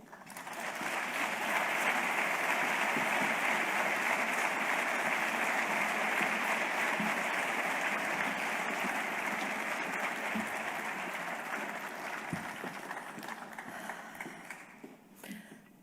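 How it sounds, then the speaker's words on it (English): Sustained applause from a large crowd at an awards ceremony, a steady wash of clapping that holds for a long stretch before gradually thinning out. "please give her another round of applause"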